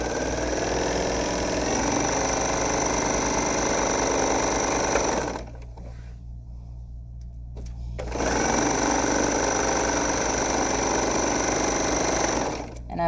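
A serger sewing machine runs fast and loud while stitching a pillowcase, a steady buzzing whir that stops for about three seconds mid-way, then resumes at the same pace.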